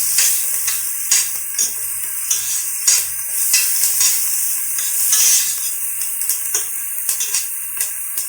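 Chopped onion sizzling in a pan over high heat, salted and left to brown for chicken stroganoff, with steady frying crackle and occasional stirring scrapes close up, no talking.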